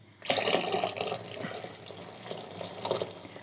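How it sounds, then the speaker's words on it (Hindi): Half a glass of water pours into a ghevar batter of flour and ghee, a short, close splashing stream that starts abruptly and runs steadily for a few seconds without talk. "आधा गिलास पानी हम इसमें और ऐड करेंगे"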